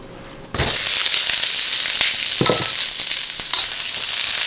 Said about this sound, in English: about a tablespoon of oil. Add my onions.